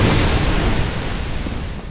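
Hydra beam blast in the Dark Souls video game, a loud, heavy booming burst that rumbles on and slowly fades.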